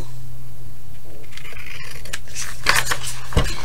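Scissors snip through handmade paper envelopes, a few quick close cuts and crisp paper rustles rising over a steady low background hum, with no talking.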